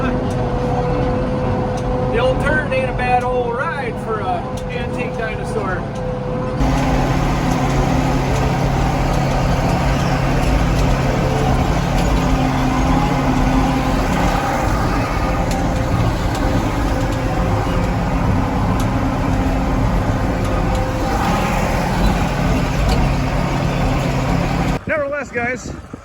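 An antique 50-year-old tractor engine runs steadily while planting soybeans in an open field, a loud, continuous low drone with harmonic hum throughout and talk over it, with a brief change near the end.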